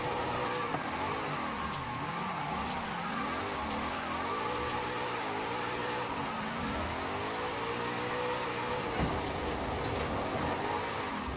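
Car engine in Forza Horizon 5, a drift-build car, droning loud and steady throughout with wavering pitch as it revs up and down, sometimes bogging down.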